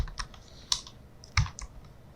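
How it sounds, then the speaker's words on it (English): Computer keys tapped out as a web link is entered, a handful of light, irregular clicks spread across a couple of seconds with two slightly louder presses, close and fairly quiet. "remove this one and type in your"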